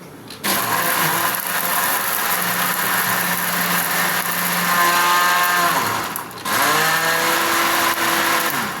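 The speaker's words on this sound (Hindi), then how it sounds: "इस दूध को करीबन 1 मिनट तक अच्छी तरीके से जूस में ब्लेंड करना है ताकि दूध अच्छी तरीके से और चीनी आपस में मिक्स हो जाए" An electric blender whirs loudly and close while blending milk and sugar for soda milk, its motor drone holding steady, briefly dropping and restarting, then pitching up again.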